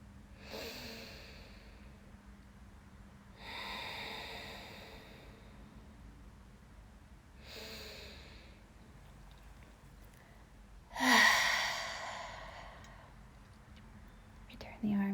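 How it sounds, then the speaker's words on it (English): Exaggerated deep breaths during a yoga practice, slow airy inhales and exhales repeating in a calm rhythm, close and soft, with one louder forceful exhale near the end. "Take a few exaggerated breaths here. So as you inhale, really expand the upper chest. And as you exhale, allow it to drop in."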